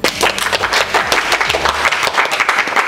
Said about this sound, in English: Let's have a round of applause for your 2018 MEDE court.